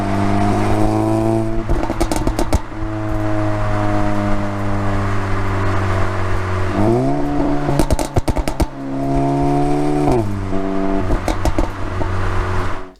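An Audi A3 running an aggressive pops-and-bangs tune through a Miltech exhaust with a large suitcase muffler revs loudly and close, its steady drone rising twice, with bursts of sharp crackling pops and bangs on each lift-off.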